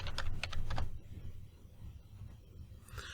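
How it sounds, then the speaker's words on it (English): Keys clacking on a computer keyboard while a customer name is entered, a quick close burst of taps at the start, then quieter scattered keystrokes over a low room hum. "Type in the customer name."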